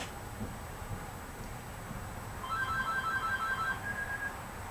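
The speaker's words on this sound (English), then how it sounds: "My phone's ringing." A telephone rings in a home, its electronic ring tones sounding in a rapid burst pattern at a moderate level in the second half, with no talking.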